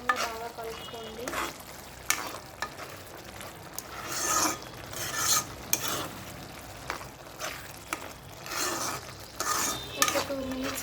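A spoon scrapes and stirs tomato curry with coriander powder in a pan, repeated rough strokes in an uneven rhythm over a low sizzle, close and moderately quiet.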